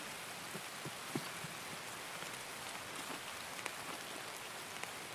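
Steady rain in a video game, Escape from Tarkov, hisses continuously, with scattered drops ticking on a surface; an even, unbroken downpour with no voices.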